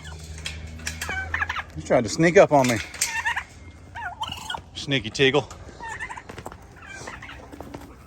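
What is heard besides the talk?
turkeys gobbling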